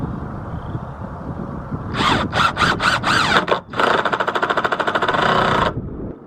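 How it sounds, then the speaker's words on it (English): Power drill driving a screw into a wooden window box: a short run of stuttering whirring pulses, a brief pause, then a sustained rapid buzzing drive, loud and close. "I'm going to put in 1 screw so that I can hold this into place"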